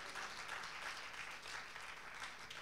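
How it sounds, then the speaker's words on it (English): A church congregation claps together in a dense, continuous burst of applause that stays fairly faint and even for a couple of seconds. "Clap unto the living God for that."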